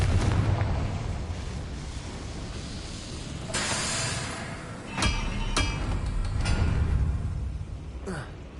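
The Confringo fire spell bursts in Hogwarts Legacy with fiery blasts and sharp impact cracks over a rumbling game background.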